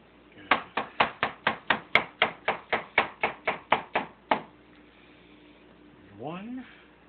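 A knife slices an avocado for salsa in a quick, even run of about sixteen sharp cuts against a board, close and crisp, followed by a short spoken remark.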